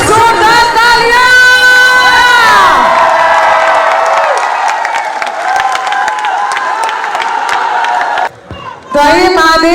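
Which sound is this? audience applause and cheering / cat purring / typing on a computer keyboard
audience applause and cheering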